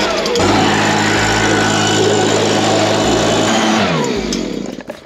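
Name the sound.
leaf blower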